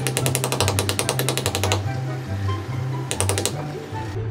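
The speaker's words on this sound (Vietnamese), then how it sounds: "chúng ta sẽ sử dụng cây búa hoặc là một thứ gì đó nặng tay để chúng ta đập cái nắp này nó dính vào trong cái lõi này" A hammer taps a plastic lid down onto the core of a homemade lipstick container cut from a plastic bottle. The taps come as rapid, close clicking strikes in two bursts, a long run and then a shorter one, with a faint voice underneath.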